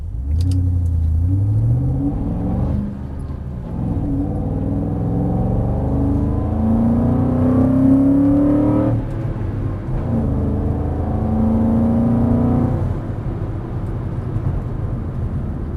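A drift car engine revs repeatedly, each rev rising in pitch then dropping back to a steady rumbling idle, loud and close, with no talk.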